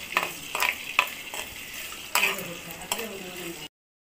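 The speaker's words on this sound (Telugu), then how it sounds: "చక్కగా చూసారంటే తిరగమూత వేగింది కదా." Tempering of mustard seeds and black gram dal frying in hot oil for a bitter gourd curry, a steady soft sizzle broken by several short stirring scrapes of a spoon in the pan, close by, with no voices.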